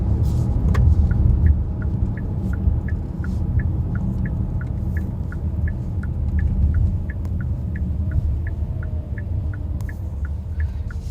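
Interior of a 2020 Hyundai Palisade SUV with automatic transmission while driving, a continuous low engine and road rumble with a faint regular ticking over it, steady throughout.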